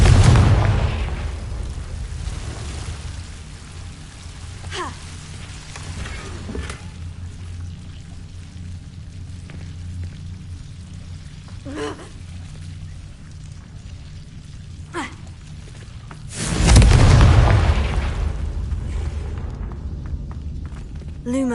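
A Confringo spell explosion in Hogwarts Legacy bursts loudly at the start, followed by scattered softer impacts and a second heavy blast with rumbling decay later on.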